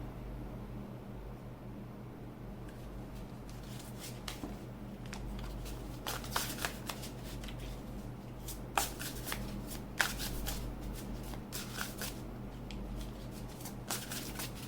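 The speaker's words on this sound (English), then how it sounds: "start with shuffling the cards" Tarot cards being shuffled by hand in a quiet room: a steady, close, soft papery riffle and patter that runs through the whole stretch, with sharper bursts of card slaps toward the end and no talking.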